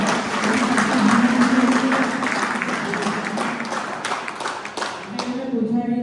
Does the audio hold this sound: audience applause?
yes